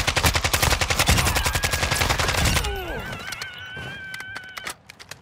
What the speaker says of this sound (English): There's also shots happening southeast.